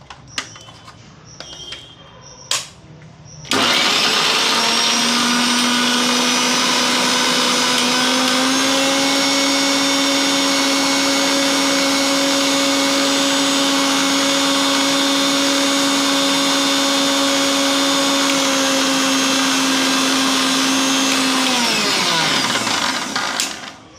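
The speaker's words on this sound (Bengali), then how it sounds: "দেখুন পোস্ত, আম, সর্ষেটা একসাথে পেস্ট বানিয়ে নিচ্ছি কেমনভাবে।" A mixer grinder whirs loudly as it blends poppy seeds, mango and mustard into a paste, starting abruptly after a few faint clinks, then holding a steady high-pitched motor drone before spinning down at the end.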